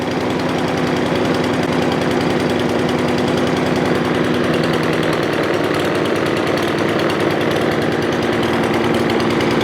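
A Craftsman M270 lawn mower engine runs loud and steady up close, a buzzing, rattling drone held at high revs for the whole stretch, with no one speaking.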